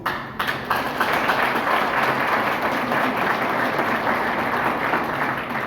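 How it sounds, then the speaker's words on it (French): Crowd applause at an outdoor political party rally in Haiti, dense steady clapping that rises quickly and holds at full strength throughout, with no talking over it. "Applaudissements."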